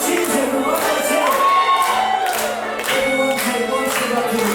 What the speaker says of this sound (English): Clap some cheers, everyone.